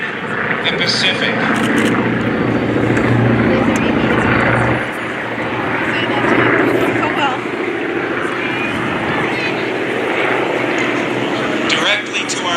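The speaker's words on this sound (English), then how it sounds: "Inbound right now are two Curtiss P-40 Warhawks" Two Curtiss P-40 Warhawk fighters, 1937-design warplanes with liquid-cooled Allison V12 engines, pass over a flyover event with a sustained loud propeller-engine roar that holds steady across the whole pass, while a voice speaks over the engine noise.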